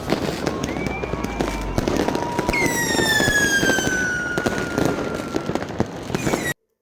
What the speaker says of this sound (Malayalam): ന്യൂ ഇയറിൻ്റെ ഫയർ വർക്ക്സ് കാണാനാണ് ഇപ്പോൾ ഈ ചിരിച്ച് കളിച്ച് പോണത്.